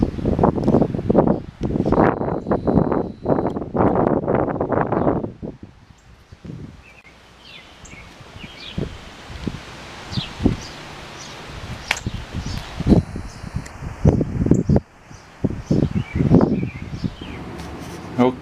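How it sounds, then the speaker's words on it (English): Outdoors on a hot, breezy 97-degree day, gusts of wind rustle leaves and buffet the microphone in loud bursts, with faint bird chirps in the background. "It's about 97 degrees out here and breezy."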